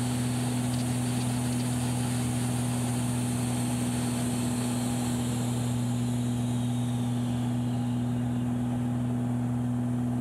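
Steady, droning propeller engine of an Extra 300 aerobatic plane during upset recovery training, heard from inside the cockpit, a constant loud hum with a strong low tone that slightly shifts toward the end.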